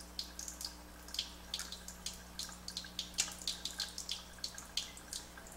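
Water streams from a Jupiter MicroLite JP-107 water ionizer into a small test vial, a soft steady trickle with faint irregular splashing and dripping, fairly quiet with no voices.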